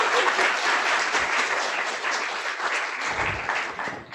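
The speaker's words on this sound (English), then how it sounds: "Let's give a round of applause" Audience applause at a teen AI demo day pitch event, steady dense clapping filling the room at full volume for about four seconds before starting to taper off at the very end.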